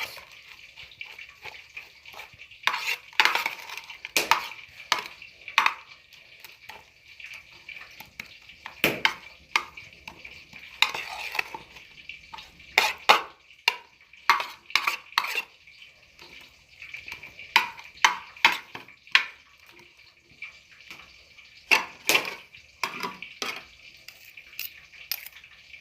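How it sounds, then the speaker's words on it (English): Leftover breadcrumbs being mixed into the remaining egg in a bowl while making kebabs, with irregular bursts of scraping, tapping and clinking of a utensil against the bowl, close and fairly loud, pausing now and then, no speech. "I just add the remaining breadcrumbs to the remaining egg, then mix them"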